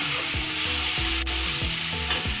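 Vegetables, carrot among them, stirred in a hot pan while cooking Indian-style spicy macaroni, with steady loud sizzling and frying broken by repeated scraping stirs of the spoon against the pan at a quick, regular rhythm.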